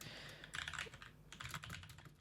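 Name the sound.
typing on a computer keyboard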